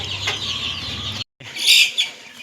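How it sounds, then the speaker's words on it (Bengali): One-month-old tiger chickens clucking and rustling as they are packed into crates for delivery, with a brief gap and then a burst of higher chirps and wing flutter close by. "45 পিস অরিজিনাল টাইগার মুরগি আমি এখন ডেলিভারির জন্য প্রস্তুত করবো"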